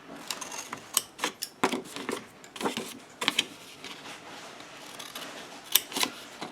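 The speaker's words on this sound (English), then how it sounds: "let's grab our scissors, and we are going to cut these corners" Scissors snipping the corners off a sheet of Heartfelt Creations Coffee Talk patterned paper for a 7 x 9 mini album, a series of short, crisp, close cuts in an irregular rhythm with no talking.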